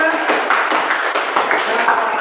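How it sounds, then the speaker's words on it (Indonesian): A classroom audience applauds after a group discussion, a dense, steady patter of many hands clapping for about two seconds, with voices mixed in underneath. "kita berikan tepuk tangan untuk diskusi kita ya"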